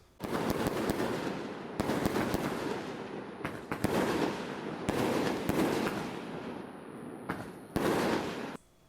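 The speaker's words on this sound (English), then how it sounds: "then the evening is for fireworks. Lots and lots and lots of fireworks." Fireworks burst repeatedly at a Chinese New Year celebration in a village, dense crackling volleys broken by brief gaps and sharp bangs, continuous and fairly distant.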